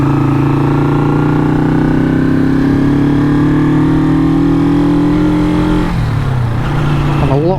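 A Honda motorcycle engine runs steadily nearby with a deep harmonic drone, then the pitch drops and wavers near the end as the revs change.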